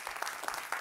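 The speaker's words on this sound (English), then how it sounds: "A big round of applause to all our sponsors." Audience applause for the sponsors at an Ecosummit conference in Stockholm, a short, faint stretch of steady clapping from a crowd.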